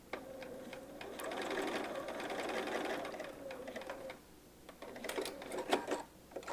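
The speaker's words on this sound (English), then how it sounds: "I'm just going to sew it until I get to the basting stitch line." A sewing machine stitches a curved paper-pieced quilt seam in quick rapid bursts, running steadily for a few seconds, pausing briefly, then resuming with short stitching spurts close by.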